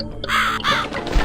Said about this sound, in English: And also this fucking crow needs to fuck off.